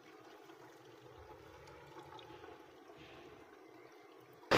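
Water drained from soaked khapli wheat trickles steadily and quietly through a cloth strainer, a low continuous pour that ends in a sudden loud splash.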